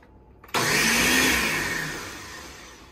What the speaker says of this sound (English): The blender is broken.